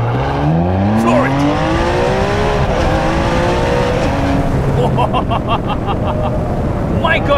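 A Ferrari 599 launches hard, its engine rising steeply through the gears in loud, sweeping roars with a brief shift dip, while a person talks excitedly over it.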